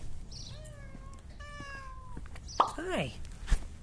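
A cat meows several times close by, with rising and falling cries and a sharper, strained yowl near the end, while a person speaks softly in between.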